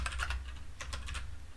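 Quick bursts of key presses on a computer keyboard, a cluster of rapid taps followed after a brief pause by another short run, close and crisp with no talking.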